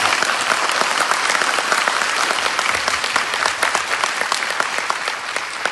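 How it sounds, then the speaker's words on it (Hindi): Audience applause at a leadership talk series event, a dense, steady wash of many hands clapping together, loud and sustained throughout with no voices coming through. "जोरदार ताली दीजिए बिल ब्रिट के नाम से।"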